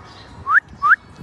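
Two short rising whistles from a person, evenly spaced and close, each a quick upward slide, with quiet background between.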